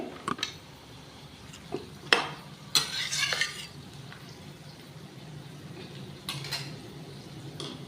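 Jackfruit and shrimp curry with green chilli is stirred in a pan after water is added. A spoon scrapes and clinks against the metal in sharp bursts over a soft, continuous simmering sizzle.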